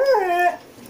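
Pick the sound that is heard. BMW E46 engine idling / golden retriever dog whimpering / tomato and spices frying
golden retriever dog whimpering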